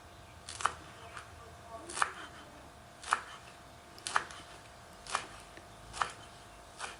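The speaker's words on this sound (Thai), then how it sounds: "ใบชะพลูเราจะหั่นเป็นชิ้น พอคำนะคะ" A knife chops wild betel leaves into bite-sized pieces, giving crisp, steady cuts roughly once a second against a low background hiss, close by and with no speech.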